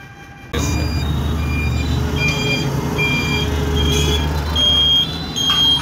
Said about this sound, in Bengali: আমরা সমস্ত রেল ক্রসিংয়ের মধ্যে পড়ে গেছি। ট্রেন আসবে